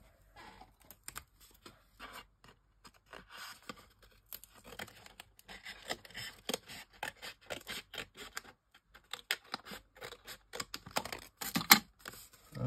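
Scissors snipping through card while making an anniversary card, many quick crisp cuts in irregular runs, close up and growing busier toward the end.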